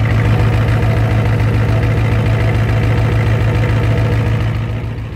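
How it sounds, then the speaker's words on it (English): A Ford F250 with a 7.3 IDI diesel engine runs at a steady idle after sitting a month, a loud, close, rhythmic clatter with a deep knocking throb that holds constant and eases off slightly at the end. "I would think it'd be able to run without glow plugs, but I'll try it half throttle."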